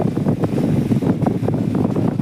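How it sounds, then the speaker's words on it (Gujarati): A homemade electric fan blows air straight at the microphone, producing a loud, continuous low rumbling buffet with an uneven flutter and no voices. "ફાઇનલી પંખો બની ગયો ને જોઈ તમે એની હવા સાંભળો એક ફેરે"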